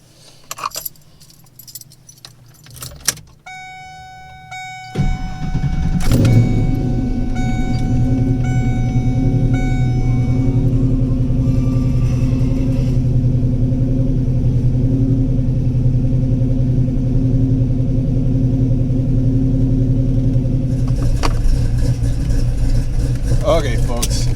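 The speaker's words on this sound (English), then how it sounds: "This is a cold lumpy idle" Keys jangle close by before a cammed Ford Foxbody Mustang 5.0 V8 starts up. It settles into a loud, lumpy, rumbling cold idle that holds steady for nearly twenty seconds.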